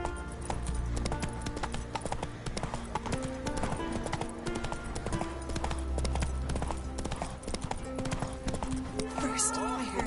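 Roach, the horse from The Witcher 3, runs with rapid, continuous hoofbeats up close, a neigh breaking through near the end, over a bed of game music and ambient noise.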